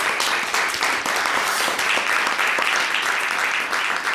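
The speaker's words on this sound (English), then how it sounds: "I thought a round of applause for everybody." Conference audience applauding the session speakers, with dense, steady clapping from many hands filling the room at an even loudness throughout.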